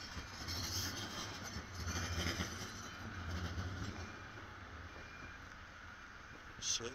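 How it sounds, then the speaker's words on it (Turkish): A tram rumbles past on a street in Sofia with a steady low rolling drone and faint clattering, some distant voices mixed in, and a brief squeal near the end. "Şehrin her yerinden tramvaylar geçiyor."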